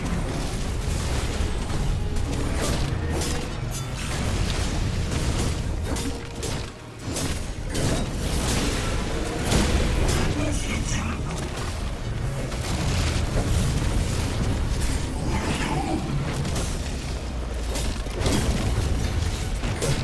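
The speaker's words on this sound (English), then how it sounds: "Please stop trying to shoot me with the death ray." A death ray being fired in a video game: a dense, continuous roaring blast with crackling, grinding texture, loud and sustained for the whole stretch with only a brief dip, and no talking.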